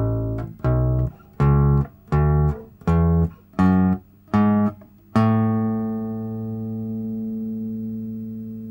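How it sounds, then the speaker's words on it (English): An electric bass guitar plays a major scale, with eight separate plucked notes stepping upward at an even pace, the last note left ringing out and slowly fading. The tone is close and clear. "The second scale we're going to look at is called the major scale"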